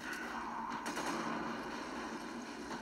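Sustained gunfire in the video game Resident Evil 5, a steady dense rattle of shots running through the whole stretch at moderate level, with a few sharper cracks standing out, and no one talking.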